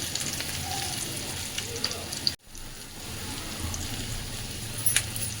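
Nigella seeds and a green chilli temper in hot oil for a Bengali bitter gourd mustard curry, crackling in a steady bright sizzle close by that briefly cuts out, then resumes with a few sharper pops.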